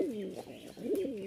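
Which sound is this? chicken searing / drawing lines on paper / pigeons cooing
pigeons cooing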